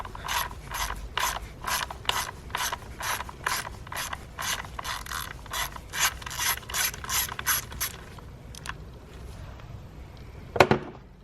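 A ratchet wrench loosens a size 8 bolt on a Ford during camshaft position sensor replacement, giving a fast, steady series of close, crisp clicking pawl strokes that slow and stop, ending with a single sharp metallic clack.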